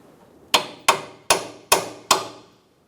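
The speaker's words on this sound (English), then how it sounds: "See if we can tap it a little bit with a hammer and get that started." Five sharp hammer taps strike a new front lower ball joint on a 2007-2012 Nissan Versa, spaced roughly evenly about a third of a second apart, each a crisp metallic knock with a short ringing decay, close and alone.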